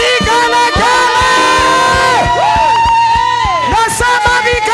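A church congregation at a praise and worship service ululates in loud, wavering high trills that ride over steady drumbeats and music, with voices and crowd noise filling the room throughout.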